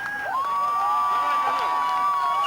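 A crowd cheers and shouts at a strongman competition, a dense sustained roar with whoops, while a whistle-like tone runs through it.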